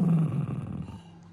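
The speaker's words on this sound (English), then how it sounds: "Why you growl at me?" A poodle lets out a low, rumbling growl close by, starting strong and fading gradually over about a second.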